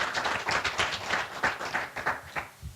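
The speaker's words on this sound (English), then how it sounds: "can we give our host a round of applause for allowing us to be here?" An audience applauds the host at a Jefferson County Public Schools event held at the Nucleus Innovation Park, with a steady burst of clapping throughout the short clip.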